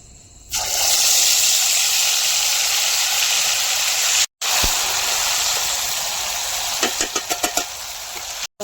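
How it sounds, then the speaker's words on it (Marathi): Steady tap water gushes loudly while fish is rinsed clean in two or three changes of water, continuing for several seconds with a brief break and a few sharp clatters near the end. "आता मी ते स्वच्छ धुवून घेते 2-3 पाण्याने एकदा."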